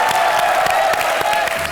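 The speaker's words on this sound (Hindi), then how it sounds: "जोरदार तालियां हो जाएं भारती और करण के।" A studio audience at a comedy show applauds a couple taking the stage, with dense, continuous clapping and some cheering filling the short stretch at a loud, even level.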